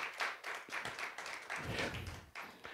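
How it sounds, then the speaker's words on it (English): A small group of about 12 people clapping hands together at a church worship service, a light, uneven patter of applause lasting a few seconds. "Let's give the Lord Jesus Christ a clap,"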